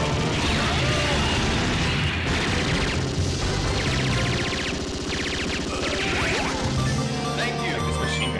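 Heavy machine gun fire from an arcade video game, a dense, continuous rattle of shots layered with explosions and crashing effects, loud and busy throughout.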